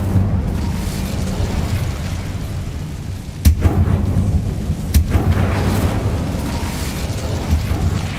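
Incendio fire spell cast in the Hogwarts Legacy video game, heard as two sharp bursts a second and a half apart, rising over a steady low game rumble and ambient noise.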